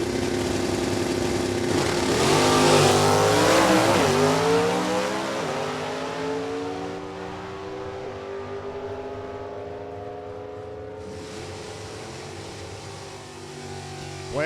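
Drag-strip racers, a Camaro and a Chevy II hot rod with a 327 V8 and four-speed, roar hard off the line, then the high-revving engines fade steadily into the distance.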